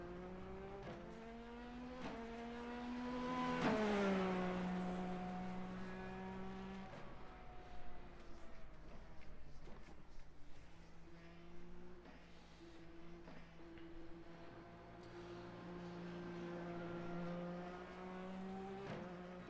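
A Formula car engine in the iRacing sim, revving with clear tonal harmonics that rise to a peak, drop through gear changes, then settle into a sustained steady drone, with no talk over it.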